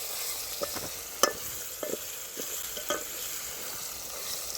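Onions frying in a pan for a prawn dish, a soft steady sizzle broken by a few sharp scraping stirs and light clinks of the spoon, close and fairly quiet with no talking.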